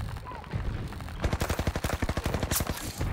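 Rapid automatic gunfire in Battlefield 2042, a loud, steady burst of fast evenly spaced shots filling the last two seconds after a short noisy lead-in, with a voice briefly talking.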